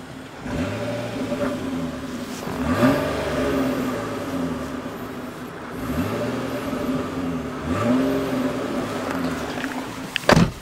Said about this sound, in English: So this has some pops and cracks on the exhaust too.